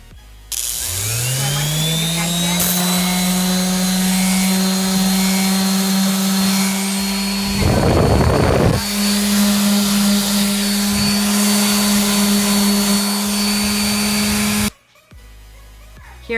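Power sander working over painted wooden letter blocks finished with a shimmer clear gloss coat, a steady loud whirring drone with a brief rougher grinding patch midway, cutting off abruptly near the end.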